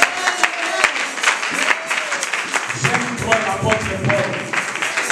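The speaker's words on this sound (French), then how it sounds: "Et acclamons pour la gloire de Dieu." A church congregation applauds for the glory of God, a steady patter of clapping from many hands running throughout with voices mixed in.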